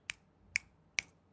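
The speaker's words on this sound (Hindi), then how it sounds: "चुटकी 3 बार चुटकी मार लीजिए।" Three crisp finger snaps, evenly spaced about half a second apart, close and clear against a quiet background.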